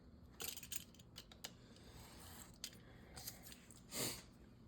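Scissors snip through paper while trimming pages for a handmade cactus-themed journal, a few quiet crisp cuts spaced unevenly, with one longer louder slice near the end, close and soft.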